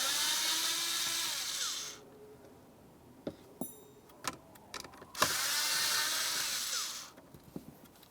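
A 5.5mm socket drives out the small mounting screws of a vent mode actuator on a 2000-2005 Buick LeSabre, with two long, close bursts of power-driver whirring and clicks and taps between them.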